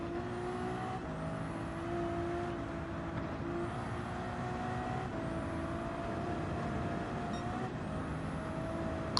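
A Toyota race car engine in Gran Turismo 7 drones continuously at moderate level, with repeated rising shift sweeps as the car accelerates through gears.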